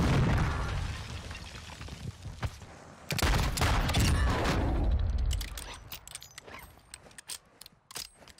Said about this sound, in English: why does everyone have so many airstrikes?